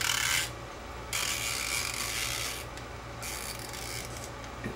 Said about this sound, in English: I have a little tool here that I can wind this back in if I can find my little screwdriver